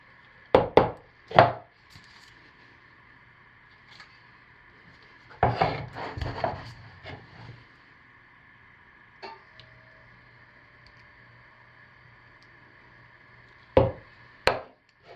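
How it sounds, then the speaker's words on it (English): A spoon stirs and breaks up a setting mixture in a small container, giving irregular knocks and scraping bursts with long quiet gaps and a steady background hum. "Let me see if I can break it up a little bit, stirring it."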